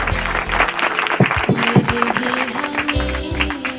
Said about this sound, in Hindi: एक बार जोरदार ताली बजाकर धन्यवाद।